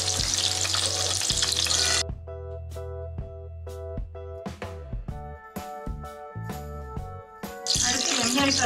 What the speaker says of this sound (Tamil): கேப்சிகம் பெரிய சைஸில் கட் பண்ணி வச்சுருக்கேன். இதை நம்ம ஃப்ரை பண்ணி எடுத்துடலாம்.